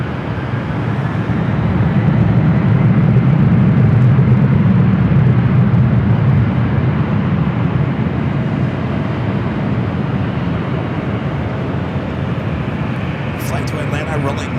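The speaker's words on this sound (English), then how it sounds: "Flight to Atlanta rolling down the 24 left." An airliner rolls down runway 24 left at LAX, heard as a loud, steady broadband engine roar that fills the whole stretch, with a faint chirp near the end.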